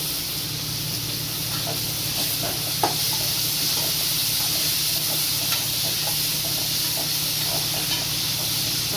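Onion and tomato fry in a pan while drumstick leaf poriyal is being made, giving a steady, close sizzling hiss with faint clicks of stirring throughout.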